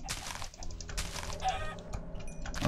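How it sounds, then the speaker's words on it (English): Chickens clucking in the Minecraft video game, a few short game-sound clucks heard over clicking and background game noise, fairly quiet. "Chickens."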